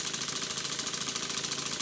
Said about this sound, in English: I'll leave the engines running at different speeds until the end of the video